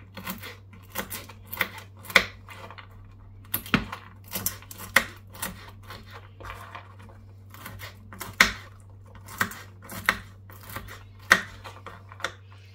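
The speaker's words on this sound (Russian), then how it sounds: "Так, теперь я немного измельчу орехи." Nuts being chopped with a knife on a board during home cooking, a run of sharp, irregular taps and clicks at close range over a steady low hum, with no talk.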